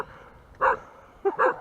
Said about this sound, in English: you hear him bark?